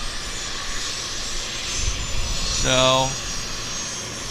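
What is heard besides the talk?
Boeing 787 Dreamliner engines at Vancouver airport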